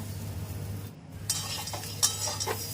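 Sun-dried mango pieces for a sweet mango pickle, mixed with chilli powder and turmeric in oil, are stirred in a pot with scraping, light clinks of a spoon and faint sizzling, close up, no talking.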